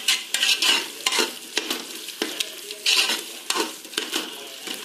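Mint leaves sautéing in a pan for prawn biryani: close, rhythmic stirring scrapes come in bursts over a moderate frying sizzle, with no voices.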